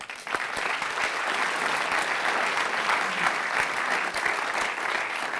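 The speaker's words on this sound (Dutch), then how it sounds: "Mag ik u applaus voor Filippo?" Comedy-club audience in Ghent applauding as the comedian Filippo takes the stage: sustained, even clapping from a large crowd, loud and close, with no pause.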